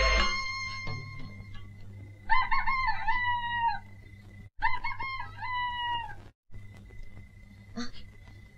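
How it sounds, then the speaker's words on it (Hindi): A rooster crows at dawn on a village farm, with two long, loud crows in close succession and a fainter call near the end, set over a low steady background hum. "देख मुर्गे ने बांग दे दी है, सवेरा होने में बस एक घंटा रह गया है।"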